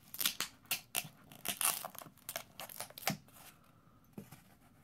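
Protective plastic film is peeled off a capsule holding a one-ounce silver Congo gorilla coin, producing a series of quiet, close crackling tears in short bursts, each followed by brief pauses.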